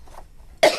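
A single sharp, close cough breaks out abruptly after near silence, short and loud.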